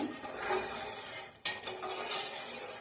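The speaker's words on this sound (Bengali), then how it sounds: "এবার চিনি শিরাটাকে নেড়ে যেতে হবে যতক্ষণ না চিনিটা গলে যায়" Stirring sugar syrup with crushed cardamom in a pan for sweet potato malpua, faint scraping and clinking of a utensil against metal with a steady low bubbling hiss underneath.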